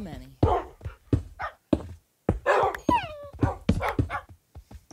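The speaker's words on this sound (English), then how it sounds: "Oh, my God, dogs." Dogs in the Minecraft video game yip, bark and whimper in short repeated bursts, mixed in among a player's talk and game noise.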